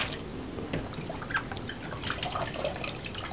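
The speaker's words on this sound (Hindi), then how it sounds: "अब दोबारा से जमाल भाई इसको उठा के दूसरे पानी में फेंक देंगे" Bitter gourds tossed into a basin of water for washing in a commercial dhaba-style kitchen, giving repeated splashes, drips and sloshing over a steady wet background.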